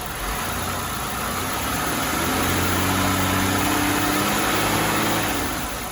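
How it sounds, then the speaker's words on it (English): A 2007 Buick Lucerne engine idles steadily, then its revs climb smoothly to a higher sustained pitch, a close, continuous mid-range drone with no talking. "Here we have the car idle with the Hertz reading of the CKP1. We're going to increase RPM"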